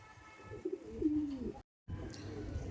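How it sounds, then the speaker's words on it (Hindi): A Rampuri pigeon gives a low, throaty coo, close by, followed by a brief gap and soft background rustle. "ये दोस्तों अगला कबूतर है, ये पुराना रामपुरी कबूतर है"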